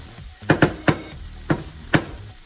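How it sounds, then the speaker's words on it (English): Garlic in a very hot pan, with a soft steady sizzle under a handful of sharp, irregular clacks and scrapes as it is stirred, close and fairly quiet. "Garlic burns really easily, especially because this pan is super hot, so stir it like right away."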